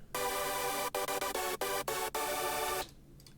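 First layer of a hardstyle synth chord built in FL Studio, rich and buzzy, played as a run of sustained chords with several quick choppy cuts before it stops and fades.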